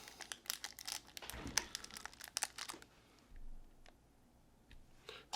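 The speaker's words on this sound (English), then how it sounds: "We'll just take that out of the package." Crinkling plastic packaging crackles in quick irregular bursts, close and quiet, as a vape tank is unwrapped, followed by a few sparse clicks and rustles.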